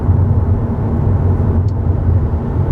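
A 2021 Honda Civic Hatchback cruises along with a low, even engine hum and road rumble filling the cabin, steady and unbroken with no voices.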